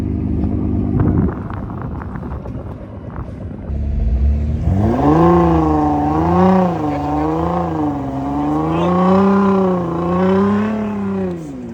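A Nissan R35 GTR, its rear bumper gone, drives over Sahara desert dunes, its engine rising and falling in long revving swells after a brief rougher rumble, loud and close with no talk.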